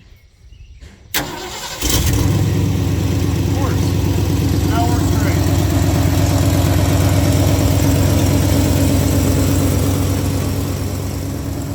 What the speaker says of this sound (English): I'm gonna do nothing and just roll the engine over.